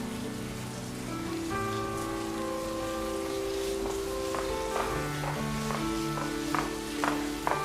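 Heavy rain drums steadily on surfaces with scattered heavier drips, heard fairly faintly beneath sustained background music tones.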